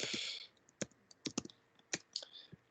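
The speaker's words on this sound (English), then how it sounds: "and let's type in Scratch coding" Scattered, irregular keystrokes clack on a computer keyboard, close and quiet, in short bursts over a couple of seconds.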